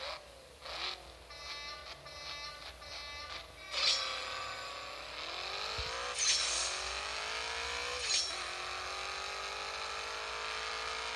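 Race car engine revving and accelerating in the mobile racing game CSR 2, a steady high-pitched whine climbing through gear shifts with brief dips between rising sweeps, loud and continuous with no talking.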